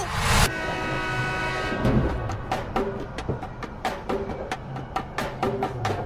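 A train rolls along the rails with a burst of loud noise at the start, followed by a steady clickety-clack of wheels passing over track joints, close and continuous.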